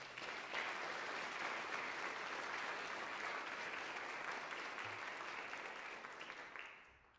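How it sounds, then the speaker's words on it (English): At a university faculty recognition ceremony, a large audience gives a sustained, even wash of applause that holds steady before fading out at the end. "Please give them a round of applause"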